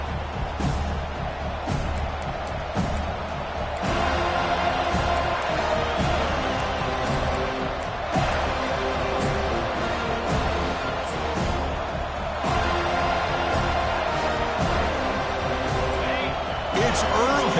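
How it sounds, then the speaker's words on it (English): Stadium crowd cheering in a College Football 25 video game at the opening kickoff of a Florida State Seminoles game, a sustained loud roar under continuous commentator talk. "It's early, but this crowd is fired up. Listen to this noise here."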